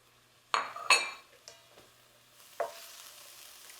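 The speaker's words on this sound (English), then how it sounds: "While that's sauteing a little bit" Minced garlic and diced trinity vegetables sauteing in a pan, with a couple of sharp utensil clinks against the pan, then a low steady sizzle, close and fairly quiet.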